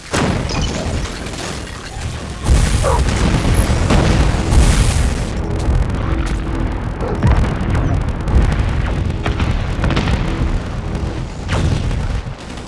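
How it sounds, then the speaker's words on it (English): Friendly airstrike explosions in a multiplayer shooter game, a dense barrage of heavy booms and blasts rolling continuously for over twelve seconds, loud and close with overlapping impacts. "Friendly airstrike"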